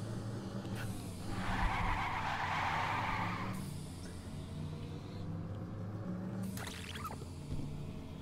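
An engine revs and tires squeal as a manual-transmission car pulls away in LittleBigPlanet 3, with a loud burst early on and then steady engine rumble.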